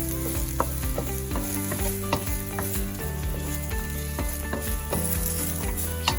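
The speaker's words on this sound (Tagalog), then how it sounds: "Stir fry." Mushrooms stir-fried in a little oil for a teriyaki chicken noodle and shrimp hibachi dish, a loud continuous sizzle with repeated close scrapes and knocks of a spatula in the pan.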